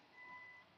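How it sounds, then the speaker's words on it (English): A faint, brief electronic beep from a reversing truck sounds in the distance against a quiet background. "I'm sorry about the beeping."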